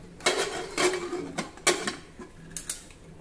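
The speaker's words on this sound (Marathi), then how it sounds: "कुकरचं झाकण बंद करून घेऊ" A metal pressure cooker lid is fitted and twisted shut, giving a series of sharp clanks and scraping clicks spaced irregularly over a few seconds, close and fairly quiet.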